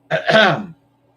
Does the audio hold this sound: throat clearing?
yes